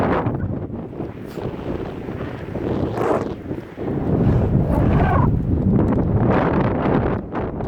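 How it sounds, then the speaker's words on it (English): Strong wind buffets the microphone on an exposed stretch of a long-distance ride on an ElliptiGO 11R stand-up elliptical bike, a loud, gusting low roar that swells and eases with no talking. "it's seriously exposed to the wind."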